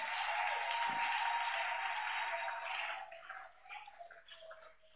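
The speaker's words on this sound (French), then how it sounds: "Acclame pour Jésus." Church congregation applauding and cheering for Jesus during a sermon, a dense steady wash of clapping that thins and scatters after a few seconds.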